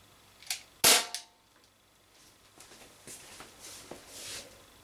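An Umarex XBG BB pistol fires H&N Smart Shot 7.4 grain lead BBs: one sharp, loud crack after a smaller click, followed by faint shuffling and small knocks.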